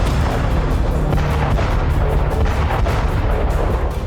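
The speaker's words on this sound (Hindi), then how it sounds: "मिसाइल धमाके, 1-2 नहीं 10 मिसाइल ब्लास्ट।" Missile explosions in Mykolaiv, Ukraine: heavy booming blasts pound in rapid succession, loud and dense, with a thick rumbling roar filling the gaps between impacts.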